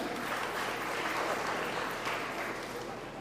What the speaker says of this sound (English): So a huge round of applause to Kalpana Shetty ma'am.